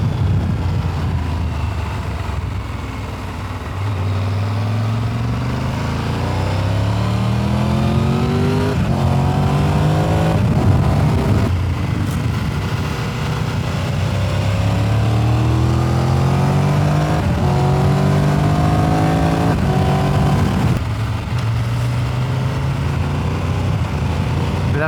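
A Triumph Tiger Rally Pro motorcycle is ridden through twisty roads. The engine is heard close and loud, with repeated rising revs through the gears, short dips between shifts, and constant wind rush over it.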